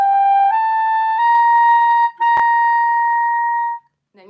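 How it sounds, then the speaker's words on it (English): Clarinet held as a sustained tone that steps upward through A toward high C, bright and steady with a short break and a click midway, played close and loud with no talking. "So it'll sound like this starting on the A."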